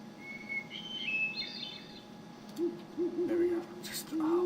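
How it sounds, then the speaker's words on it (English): An owl hoots in a quiet outdoor setting, a few low repeated hoots in the second half, moderately near, after some higher faint bird chirps and whistles early on. "There we go. Just the owl now."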